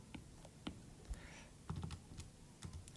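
Soft, irregular calculator button taps click at close range, a quick run of small presses with short pauses between them, fairly quiet.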